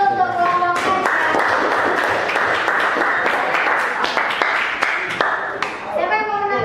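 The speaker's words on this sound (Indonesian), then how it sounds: "kita beri aplaus dulu untuk kelompok raja" A classroom of students at a vocational high school claps for the presenting group, a dense, lively burst of many hands lasting several seconds, with a teacher's voice speaking at the start and end.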